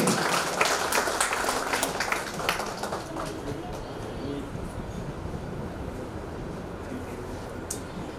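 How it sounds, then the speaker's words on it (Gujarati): Audience applause at a 2023 college reunion celebration, a dense steady patter of many hands clapping that is strongest at the start and then settles into a softer, even wash. "તો એના માટે આપણે ચંદુભાઈનો તાળીઓથી ખૂબ ખૂબ આભાર માનશું."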